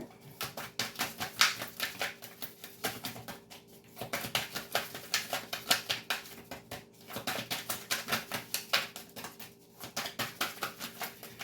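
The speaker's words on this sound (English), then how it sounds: "Two more shuffles and I'll pull from the top." Rapid crisp riffling bursts of cards being shuffled, repeated in several close, rhythmic runs with short pauses between.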